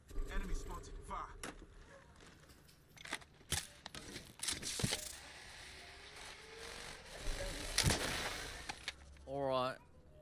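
Gunfire in the video game Apex Legends comes as scattered loud single shots and short bursts, some sharp and close, amid clattering game effects, with talk heard in places.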